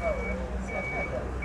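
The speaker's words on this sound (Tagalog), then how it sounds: "Ayan na po yung ating bus." A truck-sized white bus gives steady reversing beeps as it pulls in at a roadside pickup in Riyadh, the tonal beeps clear over a low idling engine rumble and street noise.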